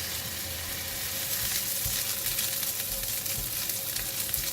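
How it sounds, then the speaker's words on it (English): Salted fish frying in a pan, giving a steady, close, full hiss of sizzling oil that runs evenly throughout with small crackles and no voices. "You need to fry the salted fish first."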